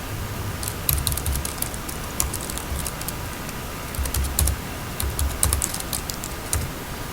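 Someone types a KRA PIN on a computer keyboard at the iTax portal, with quick irregular bursts of key clicks, close and fairly quiet, over a low background hum.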